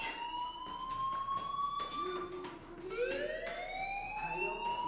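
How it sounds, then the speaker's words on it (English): A wailing, rising-and-falling electronic fire alarm sounds in the video game Life Is Strange, with several overlapping tonal sweeps that stay loud and continuous throughout, with no talking. "do you hear that fire alarm? That means you should be outside."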